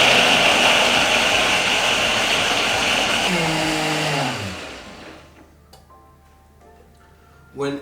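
A blender whirs loudly and steadily through raw vegan blueberry cheesecake filling, then winds down, its motor pitch sliding lower before it stops, leaving quiet room sound and a brief knock.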